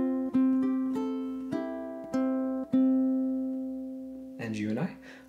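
Ukulele fingerpicked on open strings 3 and 4, with clear plucked notes ringing out in an even pattern and fading, followed by a short spoken voice at the end.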